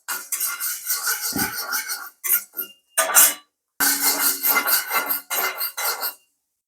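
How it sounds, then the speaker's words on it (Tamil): Urad dal is dry-roasted by hand in an empty vada pan over low heat, giving bursts of dry scraping and rattling against the metal in short, irregular strokes with brief pauses, close up and with no speech. "இப்போ நம்ம வெறும் வடை சட்டியில் தான் நம்ம இந்த கையால் உளுந்தம்பருப்பை வறுக்கிறோம்."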